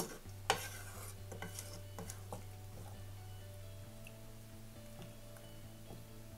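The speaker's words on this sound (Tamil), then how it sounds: "இப்போ இதை நல்லா மிக்ஸ் பண்ணிடலாம்." Broken wheat rava and water being stirred in a pot, with soft, sparse scraping and sloshing over a steady low electrical hum, close and quiet, with no voices.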